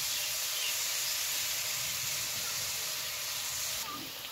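Boondi gram-flour batter dropped into hot oil for motichur laddu, giving a loud, steady, broad sizzling hiss that fills the whole stretch close up and fades slightly at the end.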